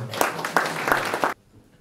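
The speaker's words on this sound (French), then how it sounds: "Vous pouvez les féliciter et les applaudir." A crowd at a Sainte-Barbe firefighters' ceremony gives a short burst of applause, a few seconds of clapping that cuts off abruptly into quiet room tone.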